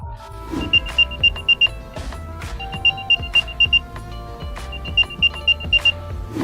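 An Apple AirTag tracker's chirping alert plays in three bursts of rapid high beeps, each separated by a short pause, over a soft musical backing.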